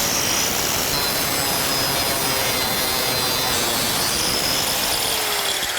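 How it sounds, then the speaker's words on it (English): An angle grinder with a continuous rim diamond blade cuts tile, held at a steady, loud, harsh grinding whine with no pauses. "this is why we use the continuous rim diamond blade for tile, because it cuts and melts at the same time"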